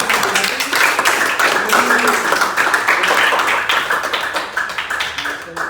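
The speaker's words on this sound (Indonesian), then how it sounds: "semuanya tepuk tangan dulu untuk kita sendiri" A school class claps together, a dense, steady patter of many hands lasting several seconds, close and fairly loud, easing slightly toward the end.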